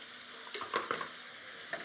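Turmeric is stirred into a catfish curry base in a pan, making a faint, quiet sizzle with a few soft spoon scrapes and clinks over a low hiss, without speech.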